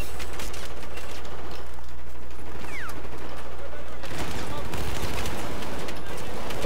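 Rapid bursts of automatic gunfire and mechanical clatter from a video game firefight, dense and continuous at close range, with a brief louder flurry partway through.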